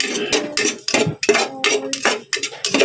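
Garlic goes into a dry pan for toasting in a home kitchen, with sharp metallic clinks and scrapes of a utensil against the pan. The sounds come in quick, uneven bursts, loud and close.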